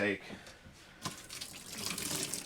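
Leftover RV antifreeze glugs and splashes from jugs into a camper shower drain, a brief voice at the start before the pouring rush builds and continues close by.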